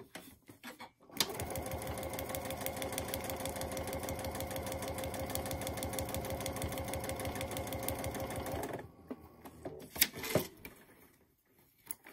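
Sewing machine stitching a small paper-pieced heart of fabric, a steady rapid run of needle strokes for about eight seconds, then stopping, followed by a few brief handling clicks.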